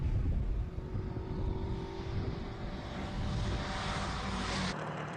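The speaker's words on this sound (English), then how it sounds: "Aldo Scribanti just leaves the start line with a little 2-liter Pinto Escort." A Ford Escort with a 2-liter Pinto engine pulls away from a hillclimb start line, its engine note a steady, moderately loud drone heard from a distance, rising gradually before cutting off.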